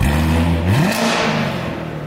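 A Corvette C7 with a 6.2L V8 and an X-pipe exhaust revs up to around 4,000 rpm, a loud, steady throaty drone whose pitch climbs partway through and then holds, close to the car.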